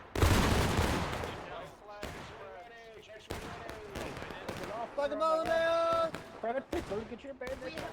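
A musket volley crashes in the war strategy video game Conquest with a sharp burst of massed gunfire, followed by scattered shots among shouted voices and a sustained tonal music bed.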